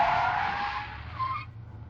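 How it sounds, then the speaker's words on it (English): Car tires screeching in a hard braking skid with all four wheels locked, a loud continuous squeal that holds steady and then cuts off abruptly, leaving a low rumble behind it. "starting with what we call a braking skid"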